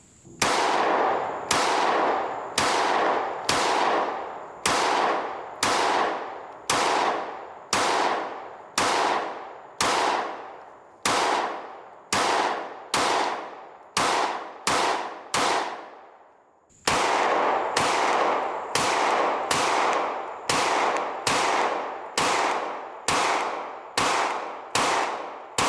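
Shots from S&W 2.0 Carry Comp and Rost Martin RM1C Comp compensated pistols ring out in a loud, evenly paced string of about two dozen sharp cracks with ringing decays, broken by a single short pause midway.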